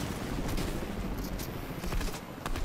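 Rapid gunfire from the video game Fortnite rattles steadily through the clip, a dense stream of bursts with a few sharper shots standing out, fairly loud throughout with no talk.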